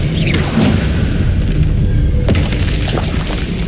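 A Bombarda explosion spell cast in Hogwarts Legacy, heard as a loud, dense, continuous booming blast with heavy low rumble and a sharp burst near the middle, no talk.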